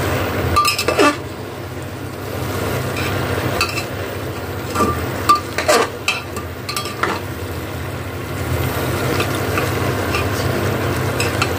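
Intermittent scraping and clinking of a utensil stirring cooked greens in a metal pressure cooker, over a steady low background hum, close and without talk.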